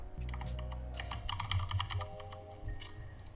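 Keyboard shortcuts tapped on a computer keyboard during Grasshopper design work: a quick run of close, crisp key presses and clicks in irregular bursts, with no talking.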